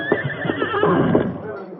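A horse whinnies loudly and close up in a radio drama effect, a long shaky neigh with faint clip-clop of hooves beneath, standing alone without talk.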